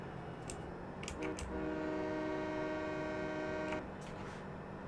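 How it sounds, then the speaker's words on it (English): Train horn honking in Farming Simulator 2017, a sustained steady game-engine blast lasting a few seconds over a low rumbling background, with brief clicks before and after. "Honk when we come across the road."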